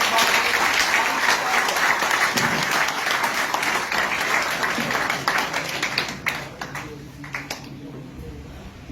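Audience of students and youth at a political address in Karachi breaking into loud, dense applause that holds strong for several seconds, then thins toward the end.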